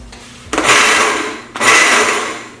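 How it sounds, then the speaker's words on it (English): A blender pulsing granulated sugar in two loud bursts of about a second each, whirring and grinding up to full speed and then stopping, with a short pause between the pulses. "because your recipe asks for granulated sugar, we're going to pulse it."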